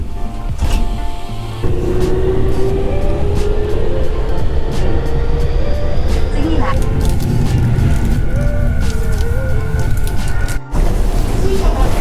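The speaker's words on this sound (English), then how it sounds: "One of the subway systems here." A Tokyo subway train runs with a loud, constant rumble of wheels and motor, rising whines and a squeal, plus occasional clanks and a brief jolt near the end.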